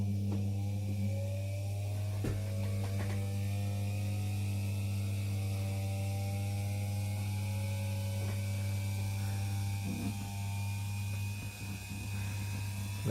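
Philips kitchen mixer running at its lowest speed after greasing, a steady low electric motor hum with faint whirring tones that slowly creep upward as it speeds up, quiet and continuous.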